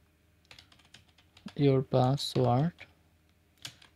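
Light clicking keystrokes on a computer keyboard while HTML code is written, with someone speaking over the taps in the middle.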